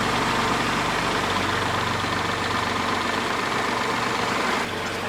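Tractor engine running at a steady idle close by, a continuous low rumble with a faint knock, cutting slightly near the end.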